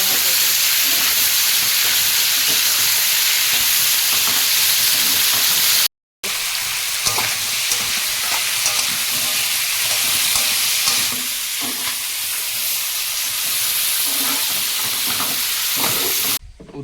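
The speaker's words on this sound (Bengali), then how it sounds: "শুকনো লঙ্কা দিতে ভুলে গেছি এখন ভেজে দেবো" Dried chillies frying in a pan send up a steady loud sizzle and hiss with stirring scrapes, broken by one brief silent gap, then resuming just as strong, close and continuous with no talk.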